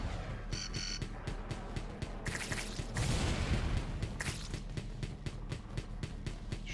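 Rapid, repeated gunfire in the side-scrolling video game Wall World, a steady rhythmic fusillade of sharp shots with a few heavier bursts and booms, loud and continuous throughout.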